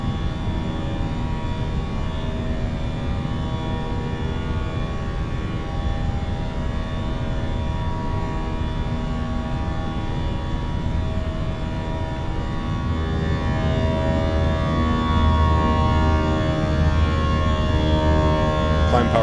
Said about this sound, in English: those IAE engines sound spectacular